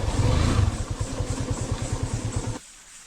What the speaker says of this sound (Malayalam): അപ്പൊ നമുക്കിതാ ഇവിടെ ബൈക്ക് പാർക്ക് ചെയ്യാം